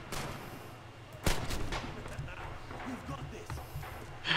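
Gunfire in the WWII shooter game Red Orchestra 2 at Stalingrad: a sharp nearby shot stands out among scattered distant shots and battle noise, with a voice talking over it.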